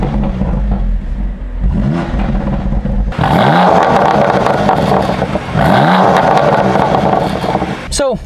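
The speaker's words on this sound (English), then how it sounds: "let me get you a little bit of a rev on the inside" A 2021 BMW M2's engine revs loudly from inside the cabin. The note surges in two strong bursts over a steady idle rumble, and a brief click follows near the end.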